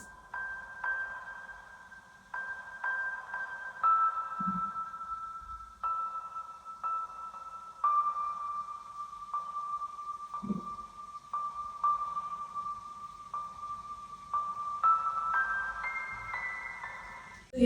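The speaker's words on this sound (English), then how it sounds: "Another preset from Native Instruments is a Noir piano." A soft, slow lofi piano melody played on Native Instruments' Noir piano preset with reverb, EQ and compression, with quiet sustained notes in a gentle rhythm and a few low thuds, no voices.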